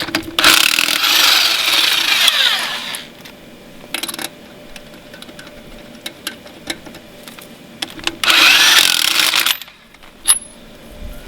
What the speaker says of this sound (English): it will easily run an impact wrench. I just did 5 bolts